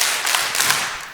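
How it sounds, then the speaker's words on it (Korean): An audience claps together in a brief burst, with a few distinct beats of handclaps standing out over dense clapping, close and fairly loud, no talk. "박수 3번 시작"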